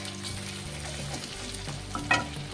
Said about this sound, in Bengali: এই দেখো পেঁয়াজটা একটু হালকা ভাজা ভাজা হয়ে গেছে না